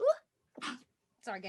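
A single short sneeze bursts out at the start, followed by a man's brief apologetic speech in a quiet indoor setting.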